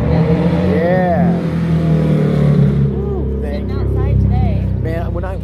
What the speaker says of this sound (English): People on motorcycles that rev their engines loud